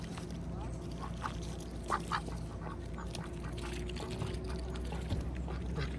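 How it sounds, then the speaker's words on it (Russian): Ducks on a campground pond in New York quack in a few short bursts over steady outdoor background noise, with a person talking nearby. "Вот, уточки уже проснулись."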